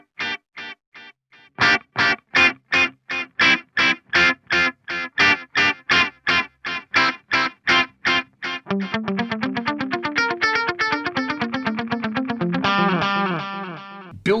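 Electric guitar through an Axe-Fx III delay with a parametric EQ filter: a run of evenly spaced plucked notes gives way to dense, overlapping repeating echoes that smear into a continuous delayed wash, loud and without voices.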